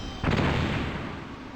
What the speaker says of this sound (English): How big is this explosion?